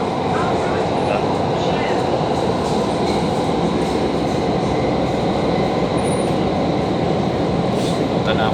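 Riding aboard a train in Doha: a constant loud rumble of wheels and carriage noise fills the cabin, with faint squeals, while a person talks over it.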